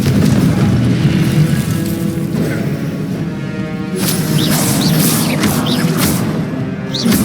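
A booming Confringo spell blast in Hogwarts Legacy rolls through a busy outdoor combat scene, with sustained rumbling, whooshing bursts and sharp crackles layered over one another at close range.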